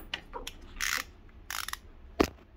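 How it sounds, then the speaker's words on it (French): A socket wrench loosening Torx screws during servicing of a 2019 Seat Tarraco 1.5 TSI, giving a few short close ratchet bursts and a single sharp clack, with quiet pauses between them. "une fois enlevé les vis, donc il y a bien 3 vis avec une douille"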